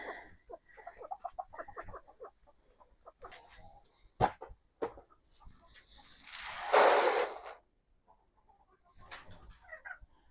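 A chicken in a coop clucks close by in short rhythmic bursts, with sharp knocks and a brief loud rustle of feathers or movement partway through, while a person occasionally speaks.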